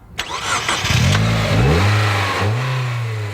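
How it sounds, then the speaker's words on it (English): A turbocharged 178-horsepower car engine revs up loudly and close by, its pitch climbing in a few pulls with brief dips between, alone without speech. "the blown engine pulls exceptionally well once through 1200 RPM"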